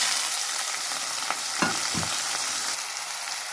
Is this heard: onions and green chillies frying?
yes